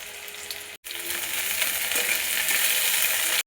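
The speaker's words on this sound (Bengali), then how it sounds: "তেল গরম হয়ে গেছে, প্রথমে দিয়ে দেবো পেঁয়াজ, আঁচটা উঠিয়ে পেঁয়াজটা একটু ভেজে নেব।" Onion and cauliflower fry in hot oil with a loud, steady sizzle close by. The sizzle is briefly cut off twice and otherwise hisses evenly throughout.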